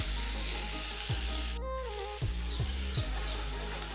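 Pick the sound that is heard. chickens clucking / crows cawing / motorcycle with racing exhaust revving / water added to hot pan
water added to hot pan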